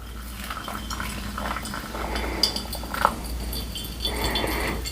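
Hot water poured over ground Peruvian coffee in a V60 for the bloom, a steady close trickle and splash with faint clinks of kettle and scale in a kitchen setting.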